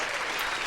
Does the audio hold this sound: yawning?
no